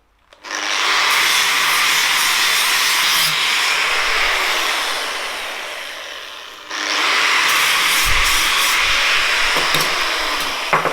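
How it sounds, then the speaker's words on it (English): An angle grinder cuts through a metal number plate in a loud, continuous high-pitched shriek that dips briefly, then resumes at full intensity. "to go down with the grinder"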